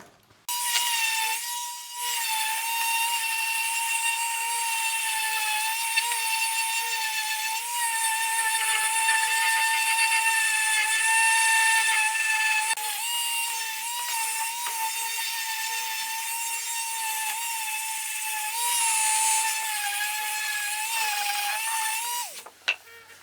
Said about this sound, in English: So yeah, on with sanding.